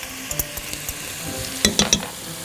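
Garlic frying in oil in a pot, a steady light sizzle punctuated by sharp metallic clinks and scrapes of a utensil against the pot, with no voices.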